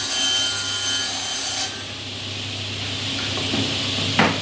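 A steady, rough grinding rasp of a blade working through wood, loud and continuous, with a brief sharp knock near the end.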